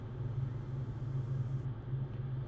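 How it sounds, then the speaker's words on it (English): A Toyota Tacoma engine idles steadily after starting, a low, even rumble that holds at a constant level throughout. "So we're gonna turn on the car"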